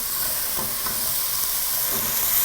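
Onions and ginger sizzling in a pot for carrot ginger soup, a steady loud hiss of frying with faint stirring clicks, close and continuous with no voices.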